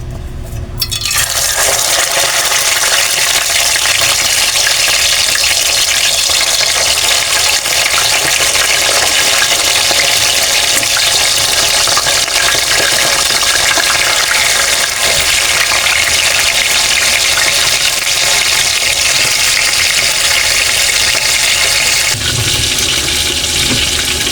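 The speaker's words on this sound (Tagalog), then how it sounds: "Prito na po natin yung ating isda." Loud, steady sizzling of fish frying in hot oil, a dense crackling hiss that starts abruptly and continues unbroken with no voices.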